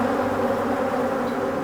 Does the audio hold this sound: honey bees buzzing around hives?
yes